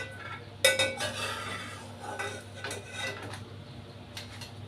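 Fried peanuts being tipped onto a plate, with a near clatter of metal utensils and a few soft rattling scrapes and clinks, quiet overall.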